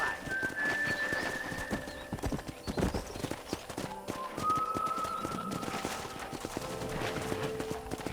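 Horse hooves clip-clop at a steady galloping rhythm across a ranch in the video game Red Dead Redemption, joined by occasional whistles and faint background sounds.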